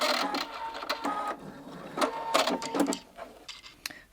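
A sewing machine stitches a bound buttonhole in several close bursts of rapid mechanical running, separated by brief pauses, with no talking.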